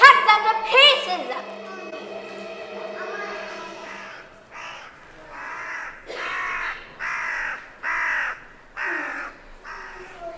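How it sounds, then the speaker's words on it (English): Crows caw repeatedly in a stage play of The Wizard of Oz, about six loud harsh calls spaced at a steady rhythm after a stretch of excited child-like chatter and voices at the start. "My crows! Yes, my crows. Fly at once to the strangers."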